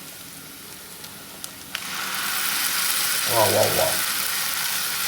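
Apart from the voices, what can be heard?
masala paste of onion, tomato, cumin, fennel, garlic sizzling in pan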